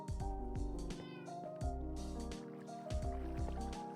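Several cats meow repeatedly in Minecraft, overlapping pitched calls in quick succession, clear and close over plucky game sounds, with no talking.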